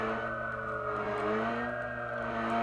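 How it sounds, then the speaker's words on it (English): Car engine from a Unity game, running as a steady droning hum with stable tones throughout, fairly loud and alone with no talking. "we get in the car, we get some sound"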